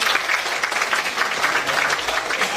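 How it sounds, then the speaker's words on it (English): An audience at a FOSMI panel event on circular economy bursts into dense, steady applause lasting a couple of seconds, close and loud with no talk over it. "I request all of you to give a big clap to Mr."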